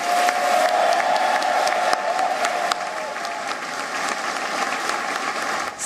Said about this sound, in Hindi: सभागार में तालियों की गड़गड़ाहट शुरू हो गई